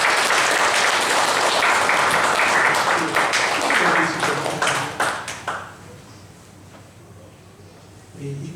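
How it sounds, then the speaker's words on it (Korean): Church congregation applauding in celebration at a membership confirmation service, a full wash of clapping with distinct individual claps standing out, fading out over several seconds before a voice speaks. "다시 한번 축하의 박수 한번"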